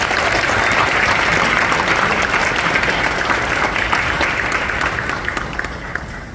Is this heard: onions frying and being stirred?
no